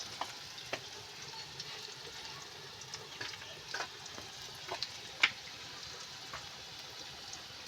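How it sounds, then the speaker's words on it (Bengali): Onion fries in a pan while being stirred, a faint steady sizzle broken by irregular light scraping taps and clicks from the utensil. "এবার আমি ভালোভাবে পেঁয়াজটা এইভাবে কষে নেব"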